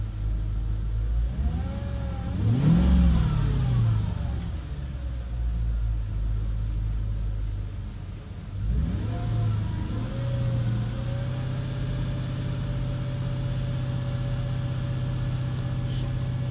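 Car engine running on bad fuel, a loud close steady idle rumble that swells in two uneven revs with a faltering rise and fall, then settles back to idle.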